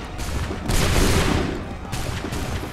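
Musket volleys crack out in a battlefield scene from the Assassin's Creed 3 video game, a loud rolling fusillade of overlapping shots followed by a second burst of gunfire.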